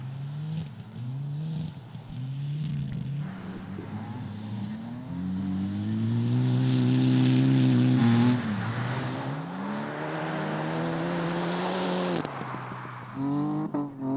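A Mitsubishi Group N rally car at a Finnish rally school runs at speed through corners, its engine loud and close as it revs up, falls off and climbs again, with steady road and tyre noise underneath.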